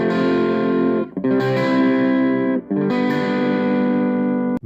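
A melody plays over a minor i-VI-III-VII chord progression as sustained, effect-laden chords with a distorted, chorused tone, changing in three long blocks separated by brief gaps, with no voices.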